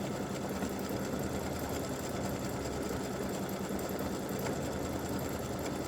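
An embroidery machine stitching an elf legs applique design, a steady rapid whirring and needle patter that runs unbroken and even at a moderate, fairly quiet level, with no voices.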